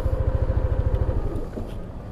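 A 2020 Yamaha Nmax Standard non-ABS scooter engine putters in a steady low pulse during a tight turn, close by, then eases off and fades slightly toward the end.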